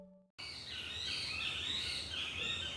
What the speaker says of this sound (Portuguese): Acordo com o canto dos pássaros.